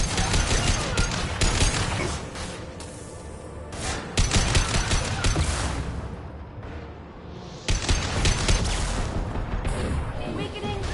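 Sustained gunfire in the video game Mass Effect 2: dense, loud volleys of rapid shots and booming impacts that continue almost without pause, broken only by a brief lull.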